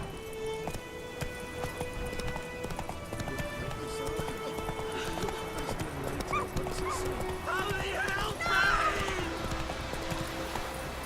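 Roach, a horse in The Witcher 3: Wild Hunt, gallops with a rapid, steady clip-clop of hooves under game music, with a brief whinny near the end and a voice speaking over it.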